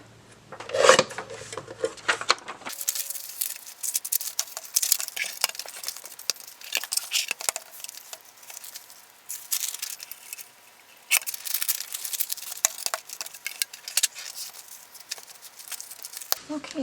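Paper pages from junk mail being trimmed, a steady dry rasping and rustling that runs almost the whole time, with busier cutting bursts, close by and alone.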